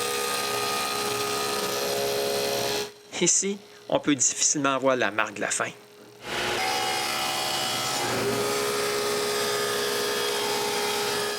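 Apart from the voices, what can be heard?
power saw cutting grooves in wooden door casing pieces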